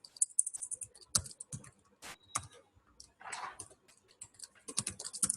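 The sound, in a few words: typing on a computer keyboard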